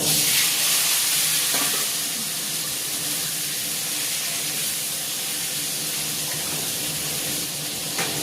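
Boiled, peeled potatoes frying in a pan with cinnamon, cloves and cardamom, a steady bright sizzle that is loud at first and then settles into an even hiss, with a couple of faint knocks.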